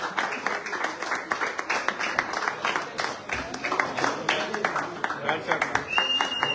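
Crowd applause at a young cricket team's award ceremony, a steady dense patter of many hands clapping throughout, with an announcer's voice speaking over it.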